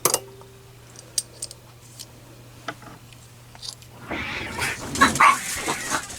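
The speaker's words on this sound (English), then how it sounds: "I had a cat fight in the yard" Cats fighting outdoors in a yard, with sharp scattered yowls and clatters early, then a louder burst of snarling, screeching caterwauls near the end, heard from indoors at moderate distance.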